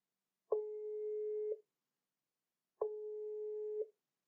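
Two identical ringback tones from an outgoing telephone call, each a steady electronic beep about a second long, separated by a pause of just over a second, clean and alone.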